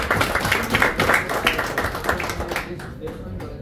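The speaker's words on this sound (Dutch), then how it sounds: "Mag ik een applaus voor Bas Kimming?" An audience at a poetry event in Rotterdam applauds a poet, with steady clapping from a crowd at fairly close range that gradually thins out, with voices mixed in.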